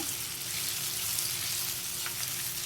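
Food sautéing in a pan in a home kitchen while chicken chops are prepared: a steady, soft hiss and crackle of frying with faint stirring, continuous and fairly quiet throughout.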